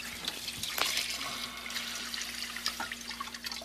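Apple cider pours through ice crystals into a bucket, a steady close trickle and splash with scattered drips over a faint low hum.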